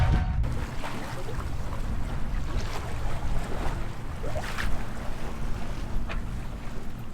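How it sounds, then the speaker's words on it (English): A sailboat runs downwind in the San Juan Islands, with steady wind buffeting and water rushing along the hull, occasional splashes and creaks, loud and continuous. "We've got ourselves a nice, leisurely, very chill, beautiful downwind sail today."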